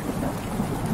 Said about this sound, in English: Some rain, thunder.